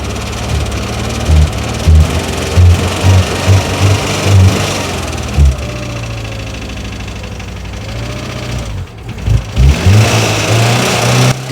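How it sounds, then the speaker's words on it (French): The engine of a Citroën GSA idles roughly and loudly up close, with repeated low thumping surges as the throttle is blipped and the engine struggles and nearly dies before picking up again. "Elle a pas du tout de couple, dès qu'on accélère, elle s'engorge et elle cale"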